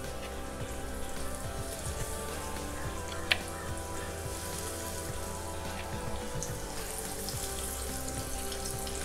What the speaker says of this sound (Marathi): नंतर आपण त्या तेलावर लावायची ती कापं